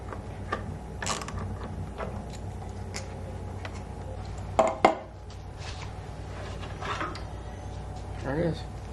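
A hand socket ratchet clicks in short bursts while bolts come off a 2021 Polaris RZR 1000 XP, with a couple of sharper metallic knocks midway, all close and fairly quiet.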